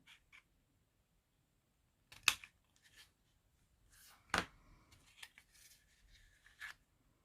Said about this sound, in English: So I'm just going to cut that little corner off there